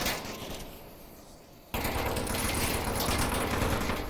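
Rapid gunfire in the Onward VR shooter during a competitive match, faint at first, then a burst of loud crackling shots and rattling fire after a sudden jump in level.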